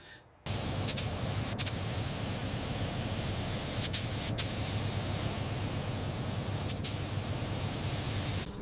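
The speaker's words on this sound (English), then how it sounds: "The fine mist helps lubricate the abrasive action, revealing this perfectly flat surface underneath the residue." Fine water mist sprayed over the Giallo Modena paint of a Ferrari F355 during wet sanding: a steady, close hiss throughout, with a few brief, sharper spray bursts and no voices.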